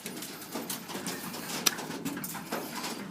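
Racing homing pigeons cooing in a loft, soft repeated throaty coos close by, overlapping in a loose rhythm with faint rustling and one brief sharp click.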